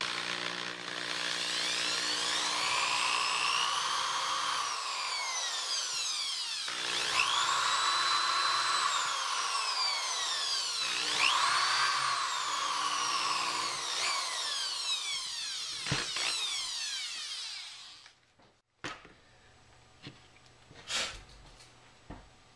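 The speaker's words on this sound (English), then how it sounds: "So I'm going to drill my hole" A power drill whines at high pitch for a long stretch, its tone rising and dipping as it bites, then stops, followed by a few clicks and knocks.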